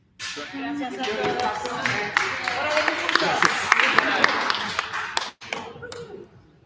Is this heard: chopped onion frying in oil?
no